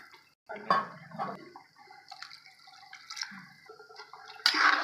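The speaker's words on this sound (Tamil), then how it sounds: "இப்போ நம்ம ரெண்டரை தண்ணி ஊற்றிக்கலாம்" Water poured into a pot of rice while cooking vegetable biryani, with splashing, trickling, and dripping bursts that come and go, close and moderately loud, with no talking.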